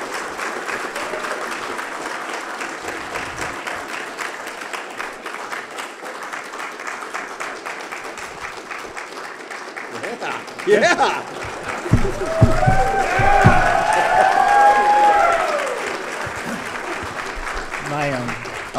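A HeroesCon comic convention panel crowd applauds for two comic creators in a steady clatter of clapping. Louder cheers and whoops rise partway through, followed by speech.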